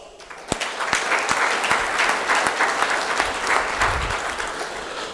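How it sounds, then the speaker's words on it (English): Audience at an annual LUGI convention breaks into sustained applause, a dense wash of many hands clapping loudly for several seconds with a few sharper claps standing out. "I am very happy to welcome one and all with a great round of applause."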